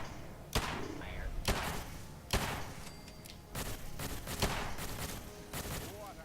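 A Galactron robot opens fire in Fallout 4's Nuka-World, sharp zapping shots and thuds ringing out at uneven intervals over a busy background hum, with a faint voice at the edges.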